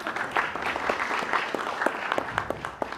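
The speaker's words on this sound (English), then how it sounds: "I want everyone else to please give them a round of applause" A gathered audience gives a round of applause, a steady wash of many hands clapping at moderate loudness, with a few sharper claps popping out of the crowd noise.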